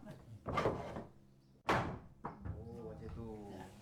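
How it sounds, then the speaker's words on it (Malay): A traditional wooden palace door is worked open with a couple of heavy thuds and scraping bumps, while people talk nearby. "macam mana cara nak ni buka pintu ni?"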